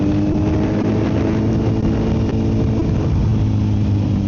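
A Kawasaki Z900 motorcycle with an ECU flash and a full M4 exhaust pulls away in first gear, its loud, close, steady engine drone rising slightly as it accelerates.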